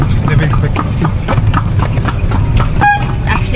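Hooves of a horse pulling a cart on Gili Trawangan clip-clop in a steady, rapid rhythm on the road, with constant rolling noise underneath.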